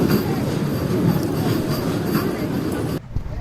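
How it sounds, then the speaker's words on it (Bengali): The Rampurhat–Andal MEMU pulls out of Sainthia Junction with a loud, close rumble and wheel rattle that cuts off sharply near the end, no voices present. "তো কিছুক্ষণ দাঁড়ানোর পর আমাদের ট্রেন ছেড়ে দিল সাইথা রেলওয়ে স্টেশন থেকে"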